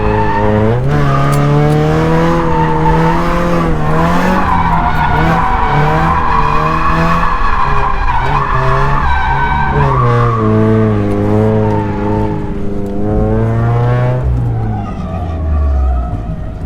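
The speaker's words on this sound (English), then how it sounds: "Definitely too much pressure in the rear when it just like completely skates out like that" A Scion FR-S drift car screeches its tires continuously as the rear slides out, the loud wavering squeal riding over a revving engine up close.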